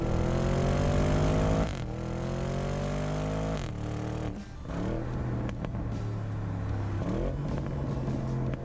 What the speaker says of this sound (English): That is a 4-litre twin-turbocharged V8. It has 590 horsepower and 591 pound-feet of torque.